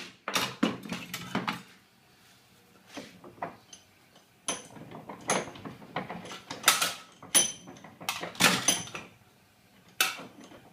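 A steel trunking lid being hole-punched, giving a series of sharp metallic clanks, clicks and knocks in bursts, close and fairly loud, with short quiet gaps between.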